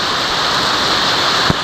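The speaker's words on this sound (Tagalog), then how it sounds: "Ang lakas na ng ulan." Heavy rain pours down in a steady, loud broadband hiss, with one brief low thump near the end and no voices.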